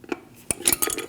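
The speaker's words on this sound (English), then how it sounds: "now we're going to take these tins off. Use a screwdriver." A screwdriver prying metal brake pad shims off a 2008-2014 Mercedes-Benz C300, a few quick sharp metallic clinks and scrapes in a short irregular burst, close and fairly quiet.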